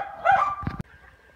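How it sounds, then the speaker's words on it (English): A dog gives a couple of quick, sharp barks close by, a short burst lasting under a second before quiet returns. "I'm not sitting outside listening to fucking dogs."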